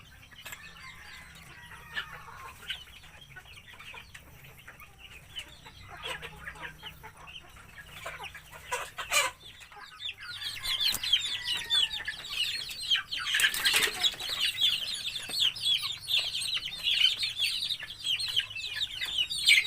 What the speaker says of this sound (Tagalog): So ito na sila mga katropa yung sisiw noon, no?